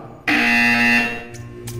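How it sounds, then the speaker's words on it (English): A loud, harsh electronic buzzer in Portal 2 sounds for about a second, abrupt start and stop, followed by faint clicks. "You will hear a buzzer. When you hear the buzzer, stare at the art."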